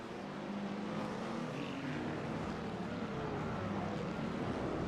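IMSA-series race cars, including a Porsche, pulling out of the pit lane at the Red Bull Ring in a racing video game, a faint, steady engine drone at distance that holds evenly for several seconds.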